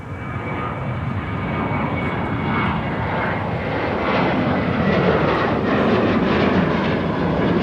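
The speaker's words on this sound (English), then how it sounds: "And the Southwest aircraft that we had in view just moments ago, arriving from Las Vegas, Nevada" Southwest Airlines airliner arriving at Minneapolis–St. Paul airport from Las Vegas, its jet engines giving a steady, loud, broadband roar that holds and swells slightly throughout, with no talk.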